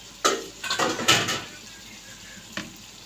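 A lid set onto a cooking pan of tel baigun, oil-cooked eggplant, gives a few sharp metallic clanks and rattles in close succession, then one more clink shortly after, with no voices.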